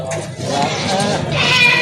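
Goats bleating at a livestock market, a close wavering bleat rising over a busy background with other animals and people audible.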